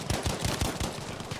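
Heavy machine gun fire in a combat video game, rapid continuous bursts of loud, near shots with a steady rhythm and no voices.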